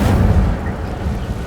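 An Incendio fire spell cast in Hogwarts Legacy, a heavy low whoosh and burst that is strongest at the start and then fades into a rumbling tail.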